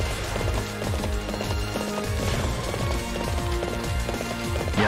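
A horse gallops fast in the video game Warriors Orochi 3, with rapid, continuous hoofbeats pounding close and steady throughout, without pause.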